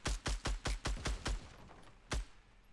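A fast burst of seven gunshots in Fortnite Battle Royale, fired to shoot down a sky base, is followed by a brief pause and one final shot, all crisp and close with no talking.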